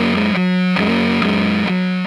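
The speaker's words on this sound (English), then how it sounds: "Fuzz is the perfect example of a broken sound that we just completely accepted as its broken self" Fuzz distortion effect on a guitar, a loud buzzing, saturated tone with a few sustained notes that change pitch in a slow sequence, alone without speech.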